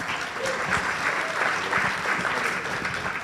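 An audience at a Jewish community leadership event in Palm Beach applauds in a dense, steady wash of clapping that holds at an even level throughout, with faint voices underneath.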